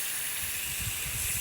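Steady hiss of water spraying from a portable garden sprinkler nozzle set at about 5 degrees, close and continuous, with a soft low fluttering underneath.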